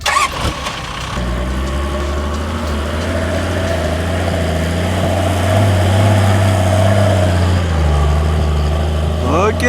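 Toyota Land Cruiser engine pulling through soft sand, loud and close, a steady low rumble that rises in pitch as the throttle opens, with a brief revving burst near the end.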